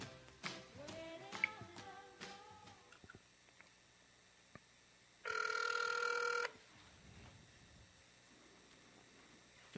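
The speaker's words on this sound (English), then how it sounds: "Let's see if we can get Mr. Climas on the phone" An outgoing call rings on the line with one loud electronic ring burst, preceded by dialing-like tones and clicks, heard close and alone with no talk.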